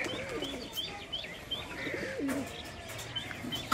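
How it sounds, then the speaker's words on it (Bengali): Giribaz tumbler pigeons coo softly in a loft, giving repeated low throaty calls with a few higher chirps from nearby birds. The sound is fairly quiet and continuous, with no talking. "সব খেলা পায়রা এখানে যা আছে"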